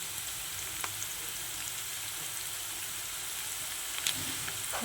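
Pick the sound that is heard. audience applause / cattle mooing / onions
onions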